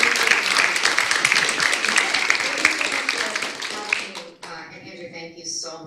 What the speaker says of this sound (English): please welcome me and give me a round of applause to Professor